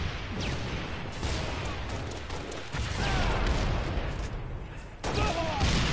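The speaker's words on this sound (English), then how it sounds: "Looks like they got rockets" Rockets and heavy gunfire erupt in a shooter game, dense, loud bursts of booming fire piling on top of each other and running continuously, with a slight surge near the end.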